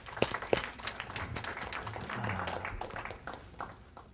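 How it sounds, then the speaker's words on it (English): Gentle applause from a small seminar audience, soft scattered clapping rising and then fading, fairly faint with a couple of sharper claps near the start. "Give her a nice, gentle round of applause."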